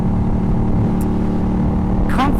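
A Yamaha FZ-07 motorcycle engine drones steadily and loud while riding, with a rider talking briefly near the end.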